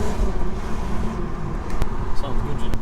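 A 3.2 V6 engine in an Audi A3 hums with a low, steady rumble while driving, heard close up from inside the car.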